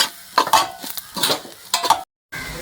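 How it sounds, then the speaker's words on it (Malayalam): Grated coconut being dry-roasted in a pan for chicken curry, heard as a few close scraping stirs of a spatula against the metal pan over a faint sizzle, with a brief silent gap. "ഇപ്പോൾ നമ്മളെ ചിക്കൻ കറിക്കുള്ള തേങ്ങ വറുത്തെടുക്കുക കണ്ടില്ലേ."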